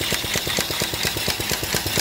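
An antique steam engine runs close by, its valves chuffing in a fast, even rhythm of sharp repeated beats over a steady mechanical hum, with no talking.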